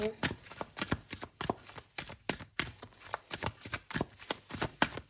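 Tarot cards shuffled and drawn by hand, heard as a steady run of quick papery riffles and taps under a speaking voice.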